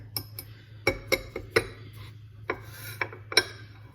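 A utensil scrapes and clinks against a bowl as dried thyme and other seasonings are stirred together, a series of short, irregular rubbing strokes close by with no talking.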